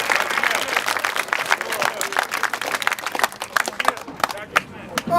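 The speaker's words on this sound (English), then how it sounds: "All right, let's round of applause." Applause and clapping break out from young football camp attendees, a dense patter of hands with shouts and voices mixed in, fading slightly toward the end.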